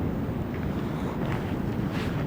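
Strong spring wind buffets the microphone beside the Desna river during feeder fishing, a steady low roar and rumble with gusts throughout, loud and continuous with no other sounds standing out.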